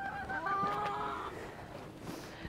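Geese honk in a short burst of nasal, chattering calls up close, followed by quieter rustling and faint background sound.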